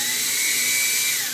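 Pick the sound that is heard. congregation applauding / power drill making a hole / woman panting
power drill making a hole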